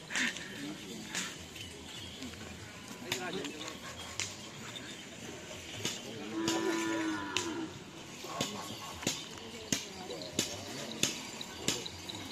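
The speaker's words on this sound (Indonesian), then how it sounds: "Ini ada sapi besarnya ya teman-teman." Cattle at a karapan sapi bull race in Pamekasan, with a single drawn-out moo rising from the middle of a quiet outdoor scene, plus scattered thumps and faint voices around it.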